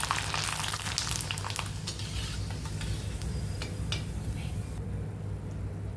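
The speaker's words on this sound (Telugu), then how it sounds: "ఇప్పుడు ఆయిల్లో ఫ్రై చేసుకుందాం ఆయిల్ వేడయ్యాక ఇందులో వడియాలు వేసుకొని ఫ్రై చేసుకోవాలి" Sun-dried tomato vadiyalu fritters frying in hot oil over a medium flame, a steady close crackling sizzle that continues throughout, with a few sharper pops near the start.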